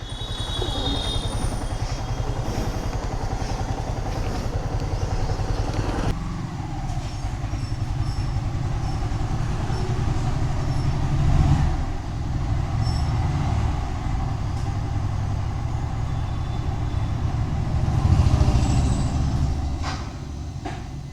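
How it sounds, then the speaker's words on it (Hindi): A motor runs steadily throughout, a continuous low rumble with a broad mechanical hiss on top, close and fairly loud, with a brief swell near the middle and another toward the end; no one speaks. "पीछे मोटर चल रही है"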